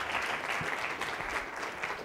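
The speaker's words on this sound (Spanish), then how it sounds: "Un aplauso, por favor." Conference audience applauds a speaker, a bank's director of banking products, with dense, steady clapping from a room full of people, fairly loud and continuous with no talk over it.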